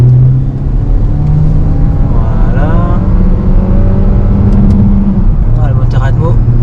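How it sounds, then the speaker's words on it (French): A Renault Captur E-TECH 160 hp plug-in hybrid turns and accelerates on a road on Réunion Island. The engine drone rises steadily in pitch under continuous road and wind noise, with a person talking over it. "Et là on tourne et on accélère."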